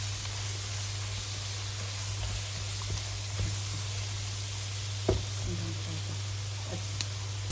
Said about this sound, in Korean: 이 센 불에서 계속 볶아줘야 됩니다.